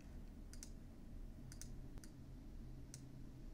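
A computer mouse clicks on the rating and flag controls of a photo app on a Mac, giving several quick, faint clicks, some in close pairs, over a low, steady room hum.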